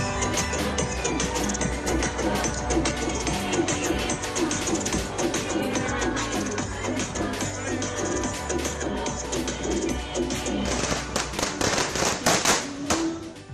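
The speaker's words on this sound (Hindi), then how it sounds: "फुलझड़ियां पटाखे जला रहे हैं" Firecrackers and sparklers crackle and pop in dense, continuous bursts at an outdoor BJP victory celebration, a loud, busy barrage with crowd noise underneath throughout.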